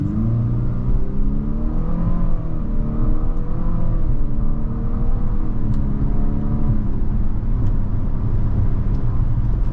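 A 2023 Infiniti QX50 Sport AWD accelerates hard in sport mode. Its engine drone climbs in pitch, dips at each paddle-shifted gear change, then rises again, loud and continuous from inside the cabin with no talking.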